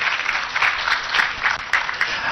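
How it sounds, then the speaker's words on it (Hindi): An audience at a poetry gathering in Delhi claps together in brief, moderately loud applause with irregular accents. "तो एक बार बत्रा जी के लिए तालियां बजनी चाहिए।"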